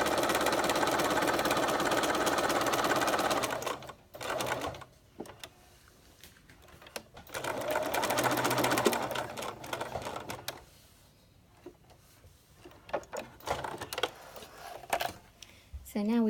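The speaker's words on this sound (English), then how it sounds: "When you're sewing this side, take care that you don't accidentally sew the pocket shut." A sewing machine stitches a welt pocket into knit fabric in bursts of fast, even whirring at close range, stopping and restarting several times, with quiet pauses and faint handling noises between runs.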